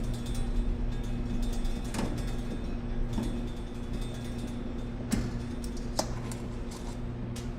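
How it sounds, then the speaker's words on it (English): Phillips screwdriver backing out two shipping screws from a machine, heard as a close series of soft creaking, ratcheting mechanical turns with a few sharper clicks over a steady low hum. "I'll take a Phillips screwdriver and take these 2 screws out."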